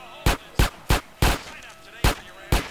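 Gunfire from the player's weapon in GTA San Andreas, six sharp, loud shots spaced unevenly about half a second apart, each with a short decaying tail.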